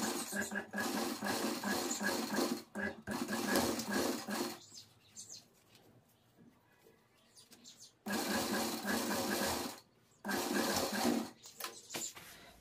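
Domestic sewing machine stitching old towel fabric in fast whirring bursts, with a pause of a few seconds in the middle before it starts up again; nearby and fairly loud.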